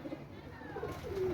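Tournament pigeons in a loft give soft, low coos, faint and near, a couple of short calls over quiet background noise.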